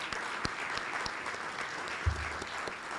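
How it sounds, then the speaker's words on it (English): Applause from a conference audience at a cyber security event honoring John Davis, a soft, fairly distant patter of clapping sustained across the whole stretch with one brief louder thump near the end. "So a round of applause for John Davis right here"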